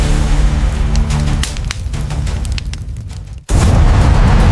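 An AI-flown jet blowing apart in a modern F-15EX versus Su-57 dogfight game: a sustained jet roar drops away briefly, then a loud, sudden boom bursts in and rumbles on heavily to the end.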